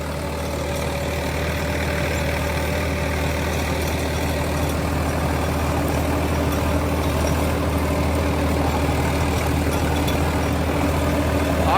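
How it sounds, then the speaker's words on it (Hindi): A 1644 XT tractor drives a 7-foot Terrasoli rotavator at 1600 RPM, a steady, loud low engine drone with a constant churning rattle throughout and no pauses. "1644 XT पे चल रहा है, 7 फुट का रोटावेटर है टेरासोली कंपनी का, 1600 RPM पे चल रहा है।"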